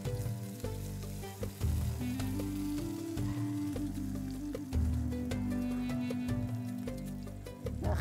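Onion and garlic fry in a very hot pan, crackling and popping steadily over a constant low hum.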